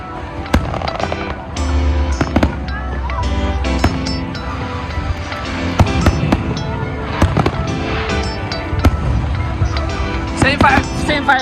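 New Year's Eve fireworks burst over Abu Dhabi at the Sheikh Zayed Festival, a loud, dense run of cracks and booms with crackling tails, while nearby spectators talk and exclaim.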